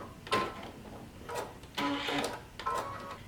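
Short bursts from a sewing machine stitching overlapped elastic, three or four brief whirring runs separated by pauses, fairly quiet and close.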